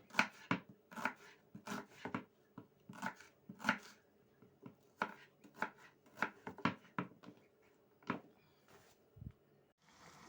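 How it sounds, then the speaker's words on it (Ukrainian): A knife chops onions on a cutting board in a home kitchen, giving a steady run of sharp, close taps in quick, slightly irregular rhythm, with no talking. "ось нарізаю побільше цибульки"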